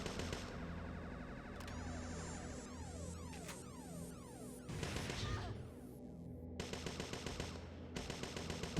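Repeated gunshots in the Parasite Eve II video game come in quick rattling bursts, fairly faint, with sharp cracks and echoing tails through most of the stretch.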